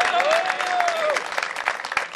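A crowd of players and supporters at a league champions presentation claps steadily for about two seconds, dense and close, with a voice briefly audible over the applause.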